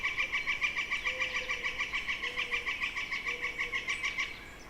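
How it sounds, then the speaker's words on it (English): A northern flicker calls in a backyard with a rapid, steady series of repeated bright notes, moderately loud and continuing for several seconds with no talking. "Well, there's that flicker again."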